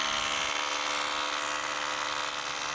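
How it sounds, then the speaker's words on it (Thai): A PUMA cordless brushless rotary hammer in hammer-drilling mode buzzes with a dense, continuous rattling whine, close and loud throughout. "เจาะกระแทก"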